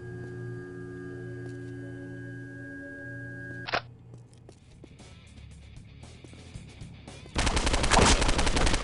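Gunfire in the violent open-world game Postal 2: a single sharp shot cuts through a steady tone, then after quieter rattling a loud, dense burst of rapid shots erupts near the end.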